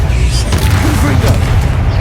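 Fire blast spell exploding in the Hogwarts Legacy video game, a loud continuous booming rumble with low-end roar and scattered bursts, heard over a spoken spell call.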